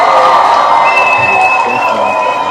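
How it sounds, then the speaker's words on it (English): An audience at a gathering gives loud, dense applause mixed with crowd noise, a continuous close wash that fills the whole moment without a break. "huge round of applause"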